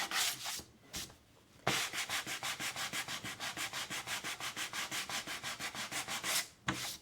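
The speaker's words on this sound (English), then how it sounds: "you can sand it to make it not as obvious" Sandpaper rubs back and forth over a crooked painted line in a long, even run of rapid rhythmic scratching strokes, with a few separate strokes before and after, close and clear with no talk.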